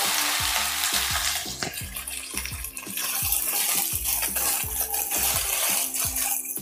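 Okra is fried in hot oil with whole cumin, making a loud, dense hissing sizzle that stays steady from start to end under a faint low, repeating hum, close by and without voices.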